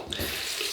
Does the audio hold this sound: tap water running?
yes